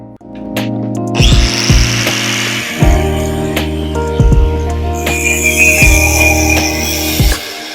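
A power tool cuts through a steel stiffener plate for a Durango gearbox swap into a Jeep XJ, loud and close, with a harmonic motor whine repeatedly loading down and recovering in short bursts.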